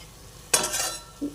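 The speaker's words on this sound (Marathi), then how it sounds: "ही मिरची सर्व भाजीला लागेल अशी हलवून घ्यायची आहे" Green chili gets stirred into alfalfa-leaf greens in a pan, heard as one sudden scraping, sizzling stir lasting about half a second, followed by a short soft clink from the pan.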